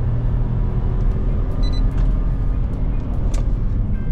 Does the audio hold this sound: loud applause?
no